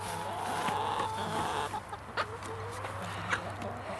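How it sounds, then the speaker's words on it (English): Backyard chickens cluck softly at moderate distance, with short broken calls scattered over a low, steady background hum. "Chickens are so cool."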